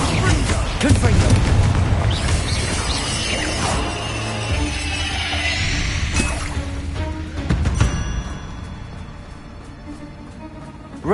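A Confringo fire-blast spell in the game Hogwarts Legacy bursts with a loud booming crash, followed by crackling debris and a lingering rumble that fades, with a voice speaking over parts of it.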